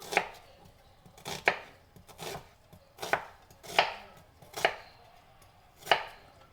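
A knife slices through an onion on a cutting board in about eight evenly spaced, crisp chops, close up and clear, with no voices.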